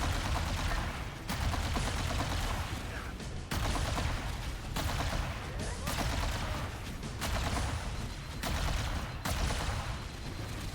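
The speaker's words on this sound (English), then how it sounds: "Plasma rifle at long range is definitely not the most effective option" Plasma rifle fire in the Halo Campaign Evolved game, sustained rapid energy bursts in long volleys broken by brief pauses, loud and close with explosions and combat noise around them.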